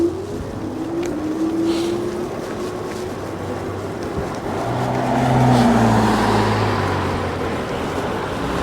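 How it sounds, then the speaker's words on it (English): Happyrun Tank HR-G50 electric bike riding on throttle, a steady whirring motor hum with rushing wind and road noise that swells and rises in pitch midway as it picks up speed. "Now we'll just use the throttle. I'll start off on level 1."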